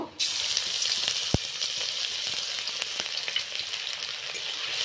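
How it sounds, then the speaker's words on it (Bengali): Grated ginger and garlic hitting hot oil for egg fried rice, a bright, dense sizzle that flares up at once and holds steady, with a couple of sharp utensil knocks and no talking. "আদা রসুন খুব ভালোভাবে ভেজে নেব।"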